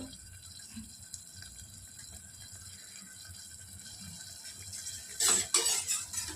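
Water poured into a sizzling tempering mixture for a village-style brinjal curry, a short splashy rush near the end after a long quiet stretch of faint kitchen background.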